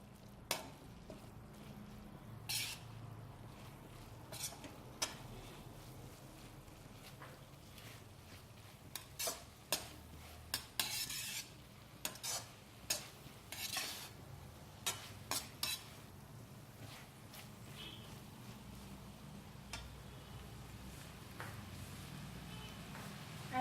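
Soya sauce mixture being stirred for chicken hakka noodles, soft continuous sizzling broken by scattered scrapes and clinks of a utensil against the pan, quiet and close.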